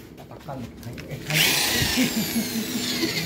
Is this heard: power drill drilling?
yes